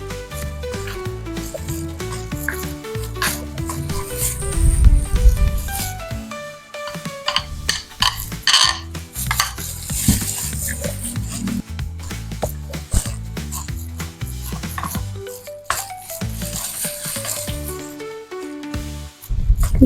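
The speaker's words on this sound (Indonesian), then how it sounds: "Kita aduk sampai tercampur rata." Thick snapper fish dough for pempek is stirred and worked in a bowl, making a continuous rubbing, scraping sound with a heavier thumping passage partway through, close and fairly loud.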